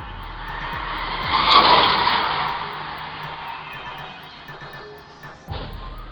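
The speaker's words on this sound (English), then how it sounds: "did you hear tires screeching and brakes squealing?" Tires screeching and brakes squealing during a car skid, a harsh high-pitched squeal swelling to a peak then fading, followed by a short sharp knock near the end, somewhat distant and thin.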